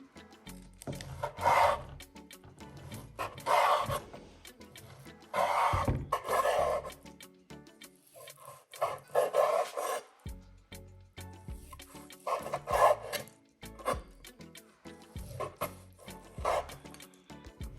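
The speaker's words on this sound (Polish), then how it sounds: "Czas pokroić mięso." A knife saws through pan-fried beef ribeye steak into thin strips in repeated back-and-forth strokes, a soft rasping rhythm with brief pauses between slices, quiet and close.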